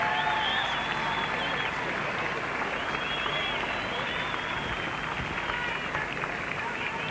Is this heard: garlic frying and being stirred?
no